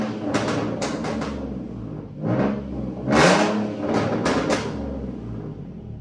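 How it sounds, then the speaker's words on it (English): A Ford F150 pickup with a catback exhaust revs repeatedly in several throaty bursts, each rising and falling back to a rumbling idle, close and loud. "For the catback straight videos, here's some revs."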